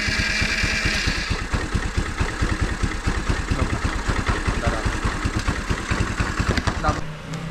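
Adly 100 cc scooter engine running, a rapid, even putter of close, loud firing pulses that continues steadily before cutting down near the end, with voices talking over it.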